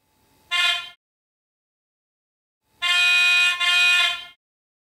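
A model Nohab diesel locomotive's horn sounds twice: a short blast, a pause, then a long sustained blast lasting over a second.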